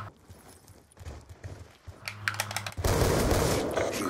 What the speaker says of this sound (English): I shot him with two sniper shots